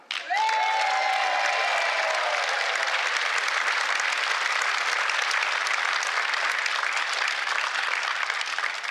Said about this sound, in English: would you please give a huge round of applause, lots of noise